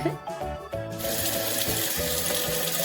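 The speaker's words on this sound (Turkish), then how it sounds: "Şimdi de bu köpükleri yıkama zamanı" Running water rinses soap foam off a cartoon dog in a pet grooming game, a steady tap-like splashing stream that starts after a brief moment of game music and keeps flowing.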